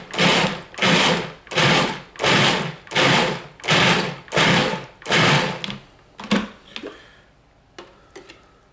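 A food processor pulsing tomato salsa in seven even bursts of whirring blade noise, each about half a second, near and loud, followed by a few scattered clicks and knocks as the machine stops.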